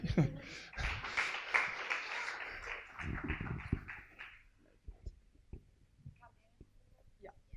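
Members of an Oxford student council applaud the newly elected chair in a modest, fairly quiet round of clapping lasting a few seconds, followed by scattered handling noises and a voice.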